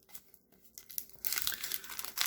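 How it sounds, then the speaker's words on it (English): A 1989 Topps or 1987 Donruss junk-wax baseball card pack being torn open, with soft crinkles at first and then a loud, sustained burst of wax paper tearing and crackling up close. "And opening pack 8 of 10 here."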